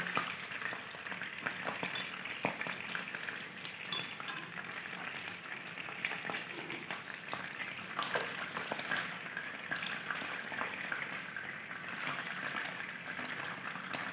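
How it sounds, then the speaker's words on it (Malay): Steady, close crackling sizzle of sardines frying gently in oil over low heat, with small pops scattered throughout and no voices. "Jadi saya goreng dengan api yang perlahan."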